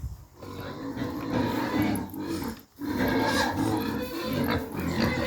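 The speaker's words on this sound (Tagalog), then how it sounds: "Liliit ang mga baboy." Small pigs on a farm in New Zealand grunt and squeal close by in a steady, overlapping chorus of rough snorts that continues with only one brief pause.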